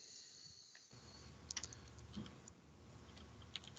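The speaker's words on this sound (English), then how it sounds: "I'm just typing away" Computer keyboard typing sounds faint and distant, with scattered soft key clicks over a quiet steady background hum.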